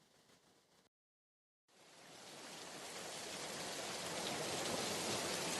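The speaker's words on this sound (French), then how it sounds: "La pluie battait sans discontinuer les carreaux de notre petit appartement." Rain beating steadily on the window panes of a small apartment at the end of March, a dense hiss that stops briefly, then returns and slowly swells into a loud, constant downpour.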